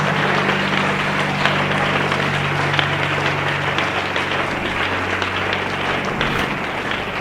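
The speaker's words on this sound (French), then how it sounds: "Acclamons encore très fort pour Jésus." A church congregation at a faith and miracle service applauds continuously and loudly, a dense roar of clapping from many hands with no pause.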